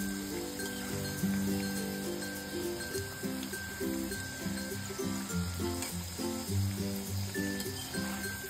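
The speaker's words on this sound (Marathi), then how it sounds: "आता मीडियम लो फ्लेम वरती आपण हे भजी मस्त असे फ्राय करून घेऊयात।" Colocasia leaf fritters (bhaji) frying in oil over a medium-low flame, a steady crackling sizzle running continuously beneath background music.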